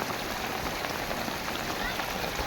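Steady rain has been falling for hours, pouring on roofs and surfaces with water flooding nearby, a dense, loud, unbroken hiss close at hand throughout.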